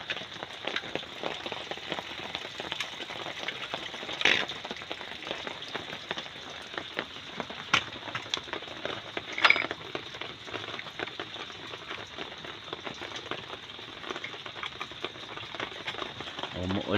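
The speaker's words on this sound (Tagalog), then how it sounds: "Umuulan na dito sa amin." Rain patters steadily on a surface, with dense crackling drops and a few louder splats, nearby and continuous.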